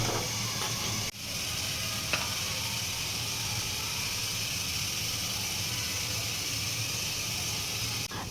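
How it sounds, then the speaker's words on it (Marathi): Chopped onion frying in a little oil on a griddle pan, a steady close sizzle and hiss throughout, with a couple of brief clicks of stirring. "तव्यावर ना थोडंसं तेल घातलं आणि त्याच्यामध्ये जो काही छान बारीक कट केलेला कांदा होता ना तो घालून घेतला"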